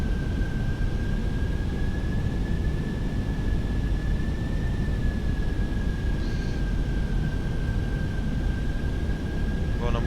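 An airliner taxis toward the runway in Microsoft Flight Simulator 2020, its engine a steady, even drone with a faint constant whine and no pauses. Voices are faint.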